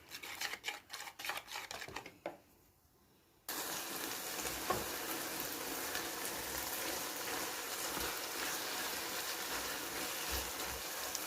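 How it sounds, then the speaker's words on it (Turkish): A whisk beats zucchini batter with flour in quick rhythmic taps for about two seconds. After a short pause, a loud, steady frying sizzle fills the rest. "Evet şimdi bunu güzelce çırpalım"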